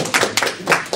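Hands clapping in a short demonstration, several close, sharp claps in an irregular rhythm with no talk over them.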